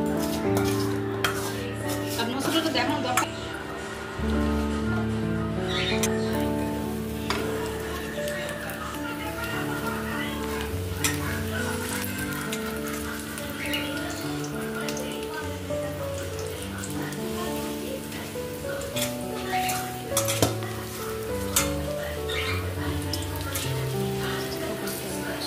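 Bottle gourd pakoras fry in hot oil, giving a steady rain-like sizzle that runs throughout, partly masked by tonal music playing over it.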